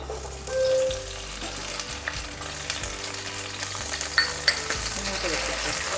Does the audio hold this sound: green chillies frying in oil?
yes